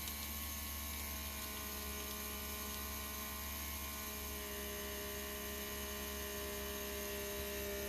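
A FoodSaver handheld vacuum sealer runs continuously, a steady humming motor drone with a faint pump-like whine, fairly quiet and unchanging throughout.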